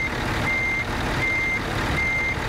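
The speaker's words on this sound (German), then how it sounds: "Eli, bleib mal sitzen, halt dich fest, ich hau mal einen Rückwärtsgang rein." Reversing beeps from an Iveco truck, a steady high-pitched tone repeating at an even pace over loud engine and road noise, heard alone without talk.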